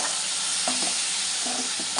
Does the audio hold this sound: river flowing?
no